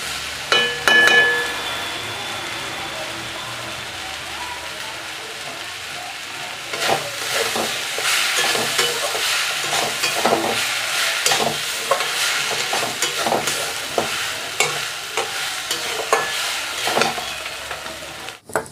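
Pui saag (Malabar spinach) cooks in a pan with mustard oil, a soft continuous sizzle under repeated scraping and stirring strokes of a spatula, close and steady throughout.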